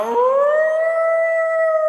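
A dog howls in one long, rising, wavering note that holds steady near and loud, with no talk over it.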